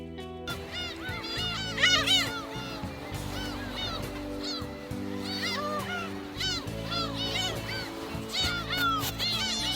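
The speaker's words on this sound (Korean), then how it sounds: "하얀 조개 껍데기를 밟고 해변에 가면 먼저 갈매기들이 반겨줍니다" A flock of seagulls at Seonnyeobawi Beach on Yeongjongdo calls continuously, with overlapping honking and squealing cries close by, and the calls rise and fall in busy waves.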